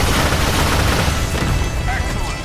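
Iron Man's proton cannon attack in the Marvel vs Capcom fighting game, a dense, loud roaring blast of beam and explosion effects filling the whole clip with a game voice shouting over it.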